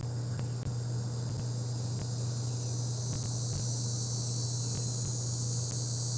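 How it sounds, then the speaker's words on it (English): Crickets chirp outdoors in a steady, high, continuous drone that holds at an even level throughout, with a low hum beneath and no talking. "I know you cannot but hear these crickets."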